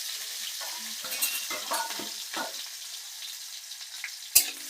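Chopped onion frying in hot oil in a pan gives a steady close sizzle, with a few scraping stirs in the first half and one sharp clink near the end.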